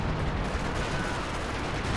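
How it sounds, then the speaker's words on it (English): A light artillery barrage lands in Company of Heroes 2, a dense, continuous rumble of blasts and gunfire filling two seconds without pause. "Light Artillery Barrage rating on in"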